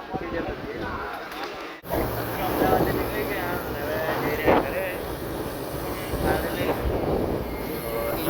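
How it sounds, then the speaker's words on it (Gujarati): A train pulls out from a station, its steady rumble and rolling rail noise running close and continuous under ambient chatter, with a brief dip before the movement settles in. "બસ ટ્રેન નીકળે છે"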